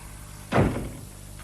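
A single heavy thud as a door is shut hard nearby, with a short rumbling decay into a quiet room.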